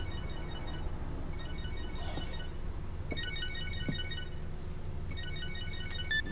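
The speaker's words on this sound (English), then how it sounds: "It looked like his computer was ringing." An electronic computer ringtone in the video game Catherine trills in repeated bursts, four short patterned rings separated by pauses, over a steady low background hum.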